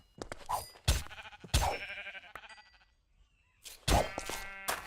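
Video game sheep bleat in short, loud, separate cries, about four bleats with quiet gaps between them.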